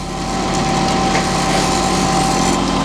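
A Metabo grinder sharpening jointer planer knives makes a steady, loud mechanical whine that runs continuously without pause, a constant motor hum with a bright high-pitched tone.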